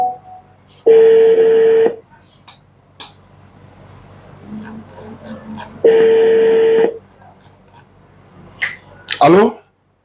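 A phone call on speaker: two long ringback tones a few seconds apart, quiet pauses with faint clicks between, then a voice answers at the end.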